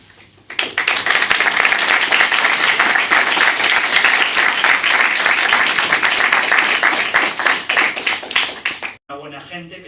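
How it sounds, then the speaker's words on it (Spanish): An audience at a literature event gives the authors a big round of applause, loud sustained clapping that starts abruptly, fills nearly the whole stretch and cuts off near the end. "hay que agradecérselo con un aplauso enorme"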